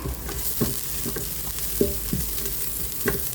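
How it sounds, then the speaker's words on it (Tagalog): Chinese sausage sizzles steadily in a pot, frying in its own rendered oil, with occasional stirring scrapes over a continuous close crackle and no talk. "isot muna natin yung Chinese sausage para lumabas ang oil niya."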